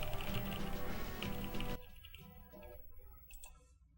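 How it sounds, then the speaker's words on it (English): Rapid typing on a computer keyboard during a GoldenEye 007 speedrunning session, a dense stream of clicky keystrokes that abruptly thins into scattered quieter taps and fades out. "You could hear him typing."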